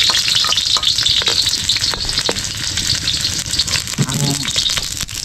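Chili and garlic sizzle loudly in a hot pan alongside potato, a steady dense frying hiss with occasional stirring clatter, close and continuous with no talking.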